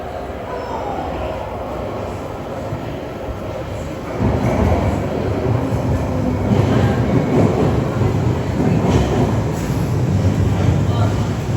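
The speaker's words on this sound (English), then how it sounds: "Just waiting for our Piccadilly line train to come into the station" A London Underground Piccadilly line train pulls into the platform, its rumble suddenly growing louder about a third of the way in, with rushing wheel and rail noise that fills the station.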